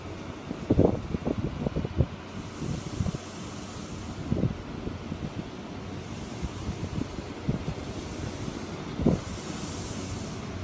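Class 43 power cars 43251 and 43296 pull away from platform 1 at Grantham station, a low diesel rumble with a few thumps and knocks over steady wind noise, moderately distant.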